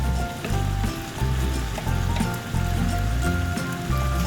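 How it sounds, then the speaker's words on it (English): Diced pork sisig simmering in vinegar in a pan: a steady, dense crackle and bubbling sizzle that swells and eases in uneven pulses, close and fairly loud, with no voices. "So we're just going to allow that to simmer until the vinegar evaporates"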